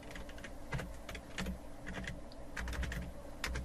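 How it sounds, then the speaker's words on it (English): Computer keyboard typed on steadily to enter code, a continuous run of quick, close, fairly soft key clicks alone without talk. "you're going to have to type it in manually"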